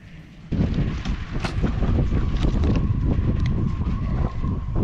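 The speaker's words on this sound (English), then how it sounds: "It's windy again." Steady gusty wind roaring and buffeting the microphone, loud and continuous after a brief quieter start.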